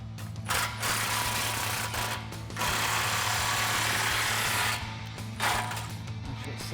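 A ratchet on a 15mm socket tightens the exhaust clamps of a 2015-2019 Mustang GT, clicking in fast steady bursts up close, with short pauses between runs.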